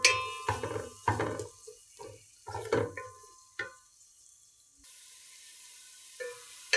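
Sliced onions fry in hot oil in a pan for pilau with chickpeas, with scattered sizzling bursts and stirring clatter, close by, fading to a quieter hiss near the end.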